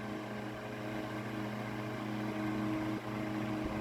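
A GE Standard strap-type 12-inch oscillating desk fan, model F14S125, runs with a steady motor hum and soft airy rush, a faint whine rising briefly near the end.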